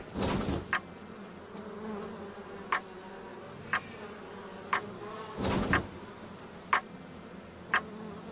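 Bees hum steadily in a Bioshock farmers market level, a soft continuous drone punctuated by regular sharp ticking clicks about once per second and two louder swells.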